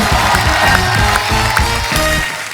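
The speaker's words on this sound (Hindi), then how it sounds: "जोरदार तालियां।" A studio audience on a Hindi TV comedy show applauds and cheers as guests are welcomed, a dense, steady roar of clapping and shouts that stays loud throughout with no break.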